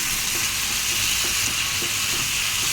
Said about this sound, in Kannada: ಈ ಥರ ಚೆನ್ನಾಗಿ ಫ್ರೈ ಮಾಡ್ಕೊಬೇಕು